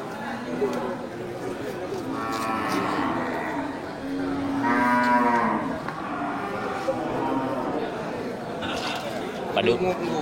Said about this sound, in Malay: ini satu lagi pedet dari jenis sapi angus